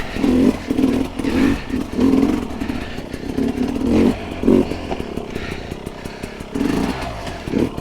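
Hard enduro motorcycle ridden over rough terrain, its engine revving and bogging in uneven bursts with clattering and scraping as the bike lands and nearly stalls; close and fairly loud throughout.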